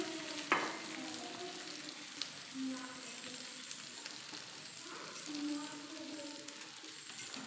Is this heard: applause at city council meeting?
no